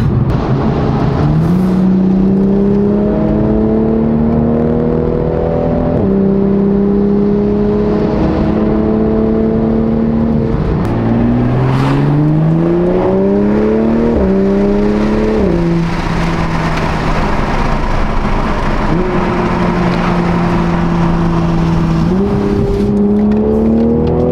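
A stock Toyota Supra fitted with a new exhaust, valves open, revved hard in a series of rising pulls to about 4,000 RPM, each climb ending in a sharp drop before the next, loud and close with no talk.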